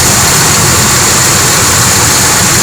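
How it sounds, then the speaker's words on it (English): A truck engine idling after its idle air control valve was cleaned, a loud, steady droning hum recorded very close with no variation in pace. "Sounds like she's idling better already."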